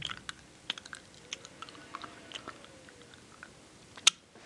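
Chewy candy is chewed close up, with soft, sticky mouth sounds and small irregular clicks, quiet throughout and ending in one sharper smack.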